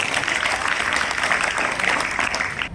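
Students at a government senior secondary school applaud during a ceremony, a sustained, loud patter of many hands clapping together without a break, with the crowd sound filling the space.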